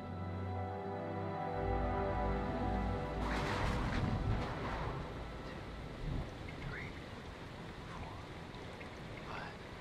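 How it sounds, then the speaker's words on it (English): Steady heavy rain hisses through a storm in the Man of Medan video game, with a low rolling thunder rumble swelling after a few seconds and fading into the continuous downpour. "Storm's 8 miles away."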